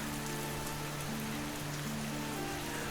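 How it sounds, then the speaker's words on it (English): Steady rain falls in an animated film scene, a dense continuous hiss of drops on surfaces with a faint low tonal hum beneath, even and unbroken throughout. "the rain began to fall"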